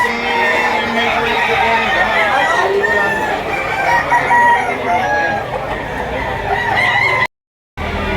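Several roosters crow repeatedly and loudly nearby, overlapping with clucking hens in a busy, noisy poultry market in Lipa, Batangas, on a rainy day.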